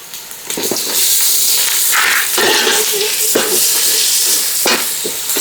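Onions sauté with ginger garlic paste in a hot pan for a beef nalli gravy, giving a loud steady sizzle broken by repeated scraping stirs of the spatula.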